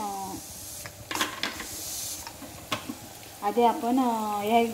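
Onions frying in a pan for chicken biryani, a close, steady sizzle with several stirring scrapes, and a voice talking over the final stretch.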